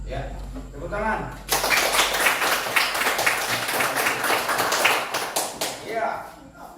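A school class claps hands together indoors, a burst of quick dense applause starting after a brief moment and lasting several seconds before fading, with a teacher's voice before it.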